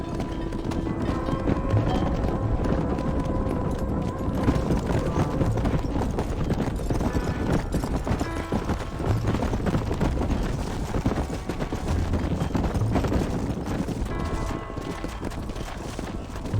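Horse hooves clip-clopping in Red Dead Redemption as a rider leads a horse into a pen, a steady walking rhythm close by and fairly loud over a dense game soundscape, with a voice briefly heard.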